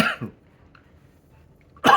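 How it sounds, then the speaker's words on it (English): A single close cough, a quiet pause, then another cough starting at the end. "my cough still has not gone away."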